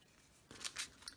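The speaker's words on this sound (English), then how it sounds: "So let me get my scissors out here." Scissors cutting wallpaper for ephemera crafting: a few quiet, close, crisp snips in quick succession, faint overall.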